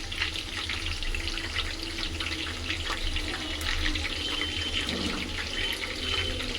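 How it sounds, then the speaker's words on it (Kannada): Soya chunks frying in hot oil in a pan, a loud continuous hiss and sizzle with fine crackling running steadily throughout, no voices. "ಆಯಿಲ್ಗೆ ಈಗ ಸ್ವಲ್ಪ ಸ್ವಲ್ಪ ಸೋಯಾ ಚಂಕ್ಸ್ನ ಹಾಕೊಂಡು ಫ್ರೈ ಮಾಡ್ಕೊಳ್ಳೋಣ"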